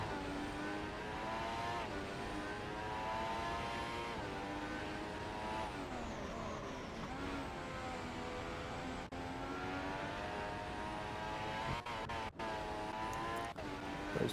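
A Formula 1 car from the F1 2016 mobile game revs hard on a qualifying lap in Australia, its high engine whine rising and falling steadily through the gears and corners.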